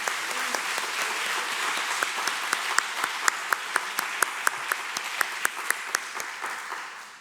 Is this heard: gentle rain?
no